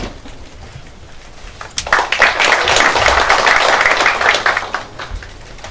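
Applause at a Bareunmirae Party caucus meeting for candidate Kim Seong-sil: quiet at first, then clapping swells at about two seconds into a dense, sustained burst from the assembled members before tapering near the end.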